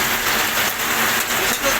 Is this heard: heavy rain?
yes